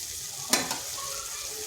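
Spiced masala frying in oil in a kadai, with the oil separating out, gives a steady close sizzle broken by one sharp scrape or clink of a spatula.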